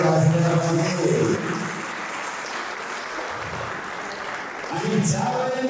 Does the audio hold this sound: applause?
yes